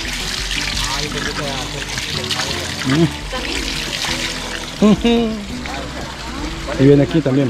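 Spring water pours and trickles steadily from a natural spring in El Salvador after a plug is pulled, splashing close by under someone speaking Spanish.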